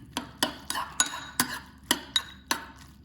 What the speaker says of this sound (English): I'm just gonna stir this around.